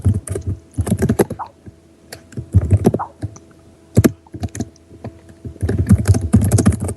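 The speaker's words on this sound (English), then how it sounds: "I'm typing, sorry." Fast bursts of clicking keys on a computer keyboard, loud and close, come in uneven clusters separated by short pauses.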